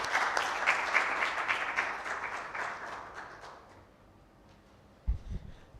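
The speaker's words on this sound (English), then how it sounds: "with a big round of applause" An audience at a company town hall in Bangalore gives a round of applause that starts full and gradually dies away, followed by a brief low thump near the end.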